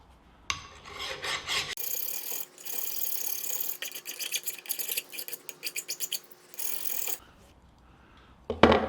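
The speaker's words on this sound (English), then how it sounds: "we need to clean it up with a file, maybe even a little sanding disc" A hand file rasping on a metal part of a Wilton vise under restoration, bursts of close, loud rhythmic strokes in a garage, some quick and choppy, with pauses between runs.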